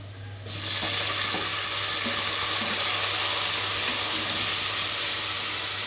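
Tomatoes are tipped into browned onions frying in oil for mushroom biryani, setting off a loud, steady sizzle that swells after a brief quieter moment and hisses on continuously, with faint stirring underneath.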